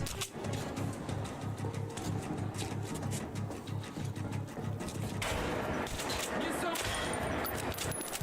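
Gunfire in the video game Metro Last Light, a dense run of sharp shots and clatter through a noisy game soundscape, with a person talking over it.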